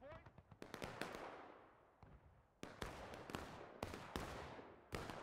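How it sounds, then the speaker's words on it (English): Muskets fire in War of Rights, a ragged volley of sharp cracks at varied distances with echoing tails, more shots following in clusters, while voices talk over the gunfire. "All right, take aim. And fire."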